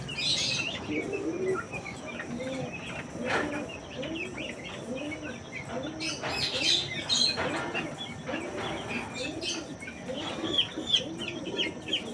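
A flock of chickens clucks and calls repeatedly near water, fairly close, with short rhythmic clucks and occasional higher squawks over a faint background.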